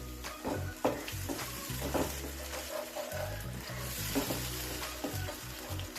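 Egg lababdar gravy of tomato, coriander and cashew paste simmering and bubbling in oil, a close, steady sizzle with a spoon stirring through it and no talking.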